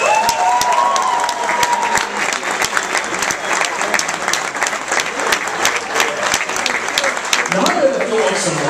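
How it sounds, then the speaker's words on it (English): A wedding crowd applauds the couple, Mike and Melissa, after a father's toast: steady, dense clapping from many guests with a few scattered voices underneath. "I would like to applause one more time for Mike and Melissa"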